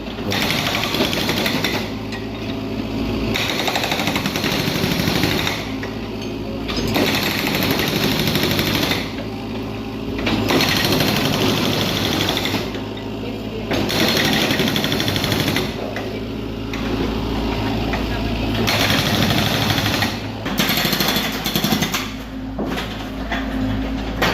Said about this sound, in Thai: ถ้ามันไม่เข้าเขาจะเอานี่เจาะ